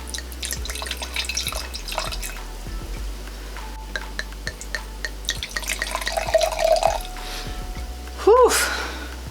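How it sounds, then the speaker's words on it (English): Sauvignon Blanc wine bottles opened and poured at a small table: sharp clinks and taps of glass, trickling liquid, and a loud pop near the end, with a voice speaking between the sounds. "get these open, get them poured"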